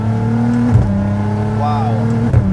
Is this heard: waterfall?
no